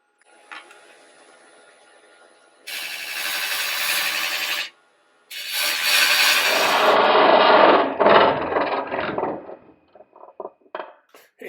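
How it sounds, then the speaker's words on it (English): A pointy carbide tool cuts a wooden ring free on a spinning lathe, a hissing scrape in two sustained bursts that end in a rattling clatter as the ring drops loose, followed by a few small knocks. "using a pointy carbide, I'm just going to go in and try to cut off at the top of the head"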